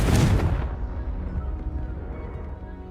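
A Confringo blasting spell explodes in Hogwarts Legacy. One loud, close, deep boom bursts at the start and rolls off into a long rumbling decay.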